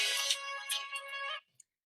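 A mobile phone rings with a bright electronic ringtone, loud and close, playing alone for about a second and a half before it abruptly cuts off.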